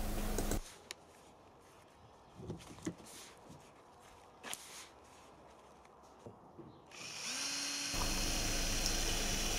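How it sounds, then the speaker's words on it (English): A power drill bores holes into an inner core box for sand casting with sodium silicate; a quiet grinding drone runs through the middle with scattered knocks and handling noises, bracketed by a louder steady whir at start and end. "Here I'm drilling holes into the inner core box."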